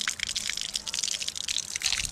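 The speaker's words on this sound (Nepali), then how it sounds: "टक्क लगाएर यहाँबाट खाने चिसो पानी यसरी आउँछ" Cold drinking water running from a spout in Syangja, a close, steady splashing gush with fluttering bursts, alone with no talk.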